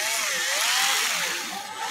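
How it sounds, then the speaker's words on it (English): A power drill with a red bit bores through a cup and a piece of wood together while building a throwing arm, a steady high whine sliding up and down in pitch, close and loud, with no voices. "you're going to drill through the cup and the piece of wood at the same time"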